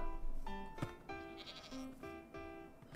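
Baby goat bleating in Minecraft, several short wavering bleats in quick succession, fairly faint, with a few brief clicks and thumps between them.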